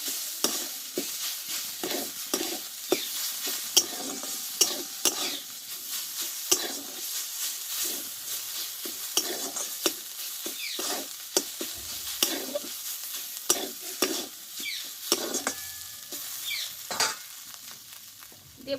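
Potatoes sautéed in a pan with chili powder and salt for a cauliflower-stalk dish give off a continuous close sizzle, with frequent rhythmic stirring scrapes and taps of the spatula and no talking.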